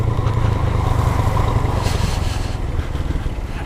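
A 150 cc motorcycle engine with a strange noise runs close by, a continuous rough, rattly drone holding steady for a few seconds with slight variation and no talk.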